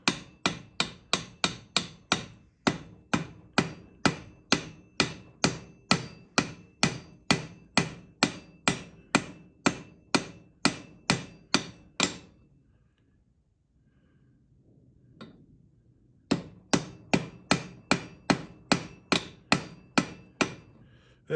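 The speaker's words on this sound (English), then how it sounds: "I always have to remind myself, it doesn't take like freaking Thor hammer smashing to do this" A hammer strikes a poured silver piece in rapid, evenly spaced metallic taps, close and crisp, pausing for a few seconds of quiet before the steady hammering resumes.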